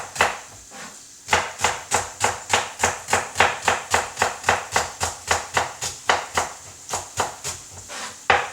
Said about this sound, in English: So I'm doing it finely chopped